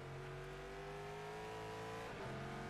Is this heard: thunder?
no